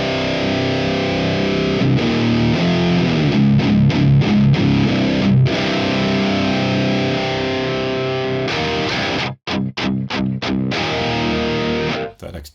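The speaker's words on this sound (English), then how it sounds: "low end distortion." Low-end guitar distortion from the girth effect in the Genome app, a thick, heavily distorted electric guitar playing loud sustained chords, broken by a few abrupt stops and restarts near the end.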